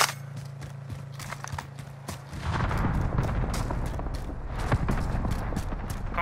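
A Call of Duty: Modern Warfare firefight brings scattered gunshots and sharp cracks that thicken into a denser, louder barrage halfway through, close and rough, with faint voices beneath.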